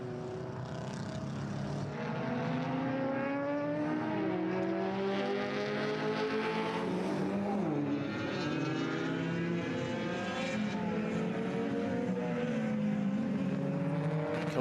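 Racing cars at Redstar Raceway, including a works Subaru and a BMW, droning past with layered, shifting engine notes that rise and fall steadily at moderate distance for the whole stretch.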